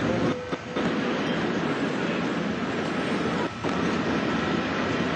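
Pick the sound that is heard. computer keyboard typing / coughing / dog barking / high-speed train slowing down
high-speed train slowing down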